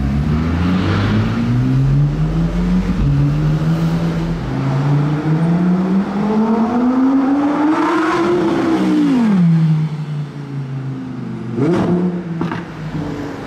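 Engine of a Lamborghini supercar in a line-up by a yacht club, a loud close roar climbing steadily in pitch through the gears, then dropping and rising again, with no voices over it.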